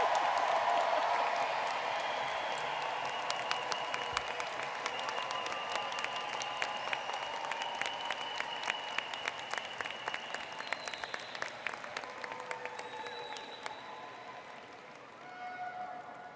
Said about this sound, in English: give yourself and our class of 2024 a rousing round of applause